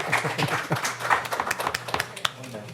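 Scattered applause breaks out in a room at a Haverford Township Board of Commissioners meeting: a short run of moderate claps mixed with voices talking over them.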